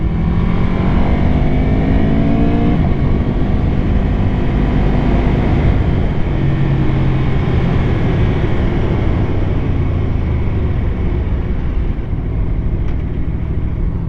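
A 2018 Aprilia RSV4RR motorcycle rides on wet roads with a constant loud roar of engine and wind that stays steady and unbroken throughout.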